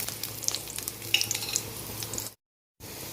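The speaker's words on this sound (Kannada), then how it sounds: "ಸ್ವಲ್ಪ ಎಣ್ಣೆ ಹಾಕಿಕೊಳ್ಳಿ ಹಾಕಿ ಹುರಿಬೇಕು ಹೀಗೆ ಮತ್ತು ಜೀರಿಗೆ ಹಾಕಿಕೊಳ್ಳಿ" Cumin seeds fry in hot oil for a coastal Karnataka-style clam masala dish, a steady close crackling sizzle that cuts out briefly near the end before resuming, with no voices.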